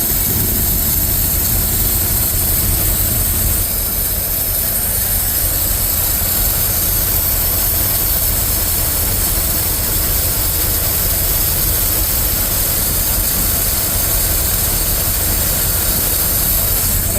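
A Ford F350 truck engine that sat for years runs with the choke pulled out, a loud, steady, broadband roar that holds evenly throughout, with no talk.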